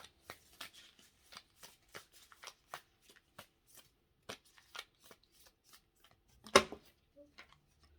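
Tarot cards being shuffled by hand, a series of soft close flicks and riffles in an irregular rhythm, with one louder snap of cards near the end, in an otherwise quiet room.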